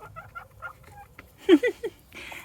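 A hen gives a few short, close clucks in quick succession near the end, after a quiet stretch with faint low background sound.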